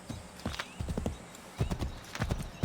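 Horse hooves trot in quick, uneven clip-clop bursts in Assassin's Creed III Remastered, loud and close, with brief pauses between the runs of steps.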